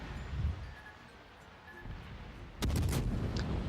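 Warship main guns fire in the World of Warships naval combat game, a deep booming salvo bursting in at the end over a low rumbling backdrop with a softer thump earlier.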